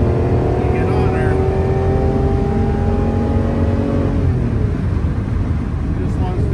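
A 1988 Ferrari Testarossa engine drones steadily at cruising speed, about 85 mph. Its harmonic hum is loud and close under wind and road noise, and a faint voice may sit beneath it.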